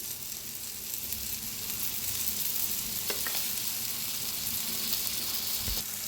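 Yogurt poured onto fried fennel, cumin and coriander, a steady, loud, close sizzle and hiss from the pan, with a couple of light stirring taps near the end.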